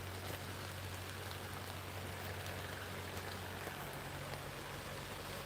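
Rain falls steadily on a vegetable garden with watermelon, onions and sesame, a soft even hiss of drops on leaves and soil, faint and continuous with no voices.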